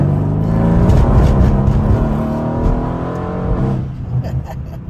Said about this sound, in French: Mais ça fait vraiment le bruit d'un dragster.